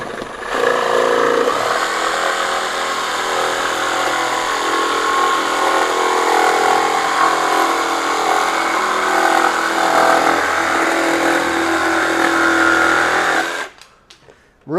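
RIDGID R86344 18V brushless jig saw making a straight cut with oscillation set to zero, a steady buzzing motor whine and blade chatter running continuously for about thirteen seconds before stopping abruptly.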